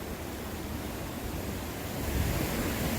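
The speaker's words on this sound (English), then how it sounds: "There's a little waterfall right there." A small waterfall in a forest stream gives off a steady, dense rush of water, even and continuous throughout, swelling slightly toward the end.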